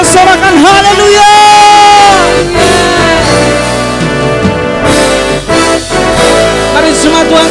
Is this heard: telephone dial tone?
no